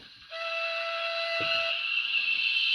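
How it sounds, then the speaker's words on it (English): A high, steady brake whistle from a model Manor steam locomotive's DCC sound decoder sounds after a brief pause, a sustained hissing shriek with a clear tone that continues without a break. "Number 12 is a brake whistle."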